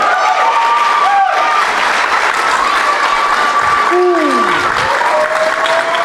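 A crowd at a Boy Scouts district event applauds the Scouts after an astronaut contact, loud sustained clapping with some cheering, while voices talk over it and a faint whistling tone sweeps in the background.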